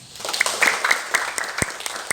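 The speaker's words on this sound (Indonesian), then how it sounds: "Tepuk tangan buat Tuhan." A church congregation claps together in steady, moderately loud applause for a couple of seconds, with faint voices underneath.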